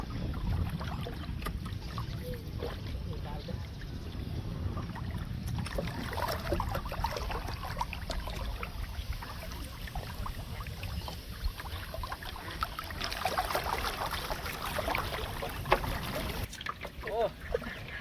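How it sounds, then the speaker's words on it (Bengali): A village boat moves on water in Bangladesh, with a steady sloshing, washing rumble close by and wind buffeting the microphone, while people talk over it. "আমরা নৌকা নিয়ে ফেলছি"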